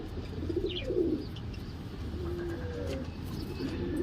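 Fancy pigeons coo softly at a pigeon seller's shop, a few low rolling coos at moderate distance over a quiet background hum.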